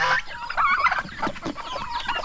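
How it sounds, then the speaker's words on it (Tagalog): Chickens on a farm clucking close by in quick, uneven bursts, several birds overlapping, with no talk. "may manok pa tayo dito"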